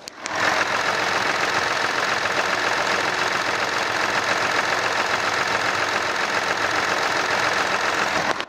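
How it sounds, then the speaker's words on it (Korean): A Kia Mohave V6 diesel engine idles steadily with the engine bay open, a smooth continuous mechanical hum with faint ticking, close and constant with no voices. "엔진 소리 한번 들어볼게요."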